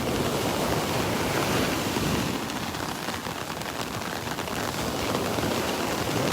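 Heavy rain from Tropical Storm Elsa pours down at Vanderbilt Beach in Naples, Florida, a dense, steady hiss blended with wind and surf, with no voices.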